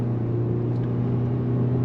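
A 2025 Kia Soul's engine pulls under throttle, a steady low drone with strong harmonic bands holding level and loud across the short stretch, with no clear rise in pitch.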